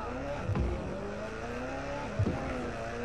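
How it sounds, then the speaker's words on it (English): A car engine in Watch Dogs Legion drones steadily at close range, with brief louder surges of revving and a short tire-scrub burst near the start and again toward the end. "I love the sound of this car."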